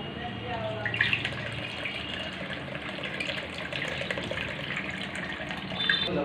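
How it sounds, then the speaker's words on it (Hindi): Cold tap water runs over freshly strained pasta in a home kitchen, a continuous close splashing flow with small drips and clinks. "इसके ऊपर ठंडा पानी डाल देंगे कि ओवर कुक ना हो।"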